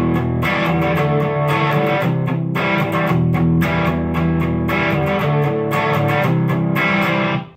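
A distorted electric guitar plays the verse rhythm of a song with straighter, palm-muted strumming. The chords are loud, steady and chugging, and no one talks over them.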